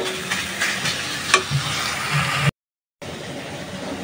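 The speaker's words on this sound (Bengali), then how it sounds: "এটা হালকা হালকা হালকা করে ভেজে নিব।" Banana flower lightly fried in a pan, a continuous soft sizzle with occasional scraping stirs close by, cut by a brief silent gap before the sizzling resumes.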